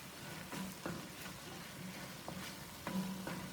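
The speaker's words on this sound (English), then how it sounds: "I'm going to mix that in with the meat." Meat cooks in a pan over medium-high flame as tomato paste is stirred in, a soft sizzle with occasional scraping, stirring knocks.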